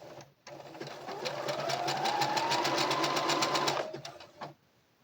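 Sewing machine back-stitching a hair bonnet, a close, rapid run of clattering needle strokes that rises in speed and stops after a few seconds, with a brief click at the end.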